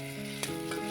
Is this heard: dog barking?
no